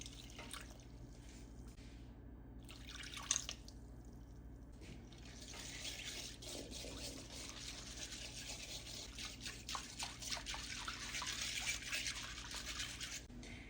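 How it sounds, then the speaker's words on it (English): A cup of water is poured into a beef slider mix made from seasoning packets, splashing and trickling steadily for several seconds after a quiet start with a few soft clinks. "And to this, we're going to add a cup of water."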